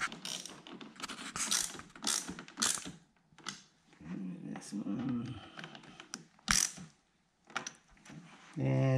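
A hand ratchet clicks in quick bursts while tightening the spoiler bolts on a C7 Corvette, the close mechanical clatter interleaved with someone talking over the work.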